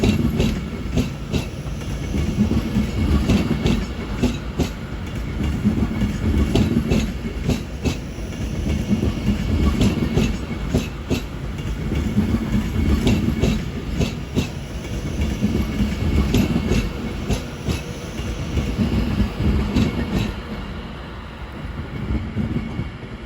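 A Pendolino train on the West Coast Main Line rolls through Crewe station, a steady loud rumble with rhythmic clickety-clack of wheels over rail joints, continuous and close, easing slightly at the end.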